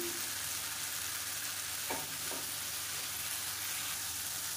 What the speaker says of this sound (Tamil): இப்போ தக்காளி வெங்காயம் ஓரளவுக்கு வதங்கிடுச்சு.